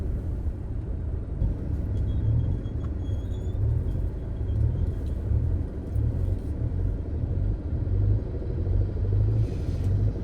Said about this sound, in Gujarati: આવો ટ્રાફિક થઈ જાય છે ભરપૂર.